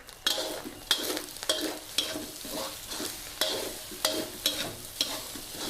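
Pork stir-fried with fried garlic and egg in a wok or pan, a steady sizzle broken by regular scraping strokes of the spatula, about a dozen evenly spaced stirs close by, with no talk.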